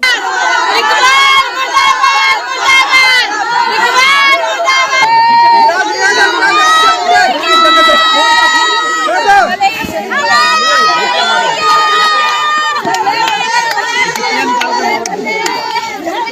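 A large crowd shouts and chants slogans in protest, dense overlapping voices, loud and continuous with rhythmic bursts of yelling.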